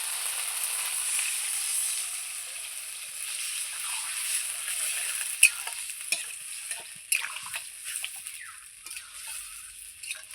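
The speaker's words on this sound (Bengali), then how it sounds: "এইবার আমি মাছের ঝোলের জন্য জল দিয়ে দেবো।" Water poured onto a fried spice mix for a Bengali pabda fish curry, giving a steady hiss and sizzle in the pan, with scattered soft clinks and stirring scrapes toward the end.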